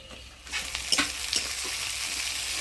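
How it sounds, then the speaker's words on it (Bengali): Chopped tomato stirred into fried onions, dried chillies and bay leaf in a pan for a spicy boal fish curry, a steady broadband sizzle rising after a quiet start, with a few scraping stir strokes near and moderately loud. "টমেটো দিয়ে ভালো করে নাড়াচাড়া করে নিলাম"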